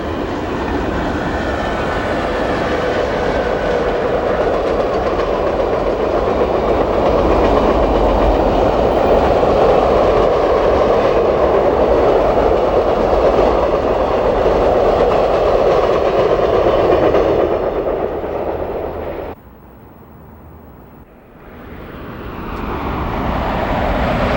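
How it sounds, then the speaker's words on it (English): Amtrak's eastbound Broadway Limited, train number 40, roars past on the main line with a loud, steady rumble and clatter of passing cars that suddenly drops away near the end, then swells again faintly. "the eastbound Broadway Limited train number 40 roars by on the main line"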